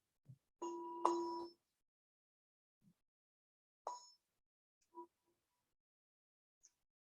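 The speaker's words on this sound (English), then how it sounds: "letting the bell transition us again" A meditation bell rings softly in a quiet room, with one clear struck tone that fades quickly, followed by a few fainter scattered taps and chimes separated by silence.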